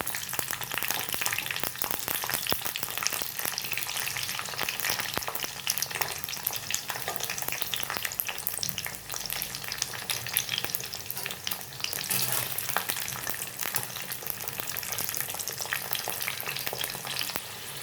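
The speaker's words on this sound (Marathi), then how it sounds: "शिमला मिरची पण फ्राय करून झाली आहे." Capsicum pieces fry in hot oil for a vegetable dum biryani, a continuous close, busy sizzle with crackling pops and occasional stirring scrapes that stays steady throughout.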